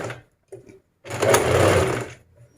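A sewing machine stitches a boat neck blouse in a short burst of steady mechanical whirring, close and loud, with brief speech just before and a soft murmur after.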